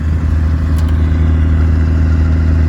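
An old 1977 Ford F150 pickup truck engine idles in snow with a steady, low rumble and faint rattling, running evenly without revving.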